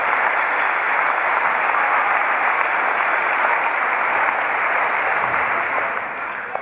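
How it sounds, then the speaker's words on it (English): Applause at a retirement celebration for a school superintendent: a dense, even roar of many hands clapping, loud and sustained, easing slightly just before the end. "let's give her a round of applause."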